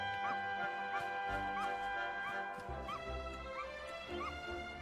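A dog in the video game Dragon Quest XI gives a series of short yips and whimpering barks at a steady rhythm over game music.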